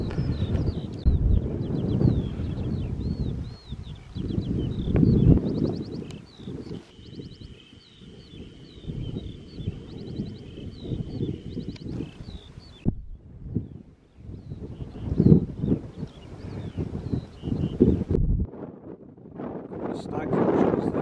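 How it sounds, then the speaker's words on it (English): Wind buffets the microphone on a hilltop, heard as a steady low rumble that rises and falls in gusts, with birdsong in the background and short stretches of people talking. "A bit breezy up here."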